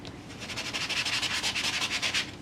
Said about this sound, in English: did a little bit of sanding